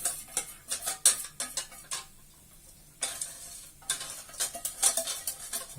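A spatula scrapes around the sides of a bowl of choux pastry batter made with flour and egg, in a run of quick, close scuffing strokes that stop briefly in the middle and then start again.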